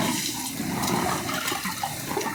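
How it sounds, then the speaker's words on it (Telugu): Steady, loud rush of water pouring down from above at the Srisailam temple (Uma Maheshwaram), a continuous broadband gush that stays constant for the whole stretch with no talk over it. "ఈ పైన కూడా నీళ్ళు వస్తున్నాయి."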